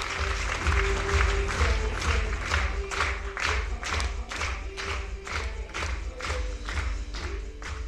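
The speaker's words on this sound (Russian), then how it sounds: "Несмотря на то, что были аплодисменты, провожающие его" A seated audience claps steadily after a health talk, a dense, even wash of applause holding loud throughout with no voices on top.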